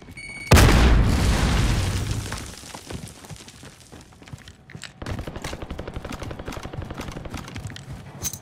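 A frag grenade detonates in Call of Duty Warzone, one loud close boom that rolls off over a couple of seconds, followed by rapid bursts of gunfire.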